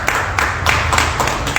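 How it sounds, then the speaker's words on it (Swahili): Church congregation clapping in praise during a Swahili sermon, loud close rhythmic handclaps in repeated bursts at a quick, steady pace with no talk. "Mtu apigie Bwana makofi katika jina la Yesu"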